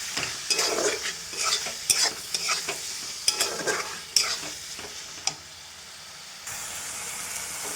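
Mutton sautés in a hot pan while a spatula stirs it in quick bursts, with sharp scrapes over a loud sizzle that settles to a softer hiss near the end.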